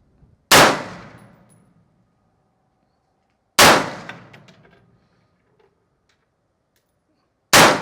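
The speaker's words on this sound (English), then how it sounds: "let's get this loaded up, fire our 6 rounds, see where we're at" Three loud, close rifle shots from a Daniel Defense M4A1 with a red dot sight, spaced about three seconds apart, each a sharp crack followed by a decaying echo and faint metallic clinks.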